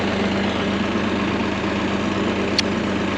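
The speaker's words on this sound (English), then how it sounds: "while the tractor's warming up" A New Holland tractor engine idles steadily while warming up in the snow, a continuous low rumble with a constant hum, with no talk.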